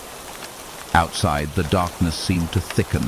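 Steady rainfall hisses softly in the background throughout while a narrator speaks in the foreground over it.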